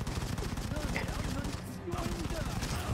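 A minigun in Modern Combat 5: Blackout rattles in continuous rapid fire for a few seconds, loud and dense, with other battle noise mixed in and no clear speech.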